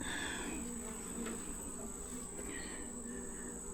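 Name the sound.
honey bees buzzing in hive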